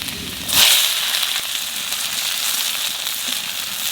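Chopped onion added to hot oil already holding cumin, garlic and ginger, bursting into a loud sizzle that then settles into a steady frying hiss.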